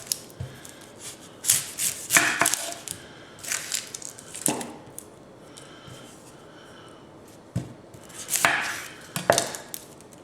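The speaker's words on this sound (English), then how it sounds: "let's start by dicing up our red onion" A knife dices a red onion on a cutting board, giving irregular bursts of crisp chopping strokes with short pauses between them, close and fairly quiet, with no speech.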